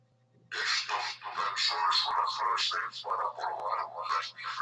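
A deep, dragon-like voice from a voice changer app fills the clip, treated with a low cave-like echo, speaking continuously and loudly after a brief quiet start.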